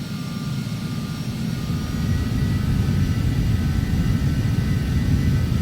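Phenom 300 business jet engines spooling to takeoff power in the Prepar3d flight simulator, a steady loud roar that swells after the first couple of seconds and holds alone with no talk.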